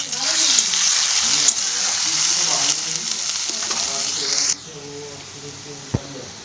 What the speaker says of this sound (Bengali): রসুন বাটা দিয়ে খুব ভালোভাবে ভেজে নেব।